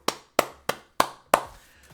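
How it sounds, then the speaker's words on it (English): Five sharp hand claps, evenly spaced at a steady moderate pace, each crisp and close with a short decay. "Let's clap for that."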